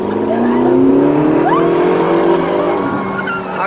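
A nearby car engine revs and accelerates, its pitch climbing steadily through the gears, loud and close throughout.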